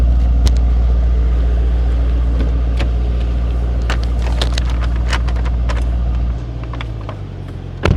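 Mercedes E63S AMG with a 603 hp engine, exhaust in comfort mode: a steady, loud low rumble with scattered crackles and pops, the drone dropping in level near the end.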